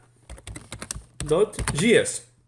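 Quick clicking keystrokes on a computer keyboard typing a file name, a short burst of taps followed by someone speaking over a few more key presses, with a low electrical hum underneath.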